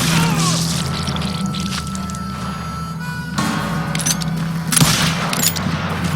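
Gunshots in the video game Call of Juarez Gunslinger: loud sharp bursts at the start and again near the end, over a dense, busy game soundscape.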